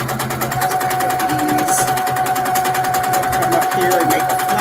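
A sewing machine runs steadily at speed, its rapid, even needle pulses laying down quilting stitches close by. A voice speaks quietly over it.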